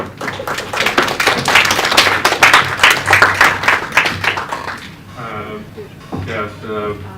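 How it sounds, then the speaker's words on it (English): An audience at a university guest lecture claps in welcome, a loud burst of many hands that tapers off, followed by a person beginning to speak. "let's welcome Professor Chen with a round of applause."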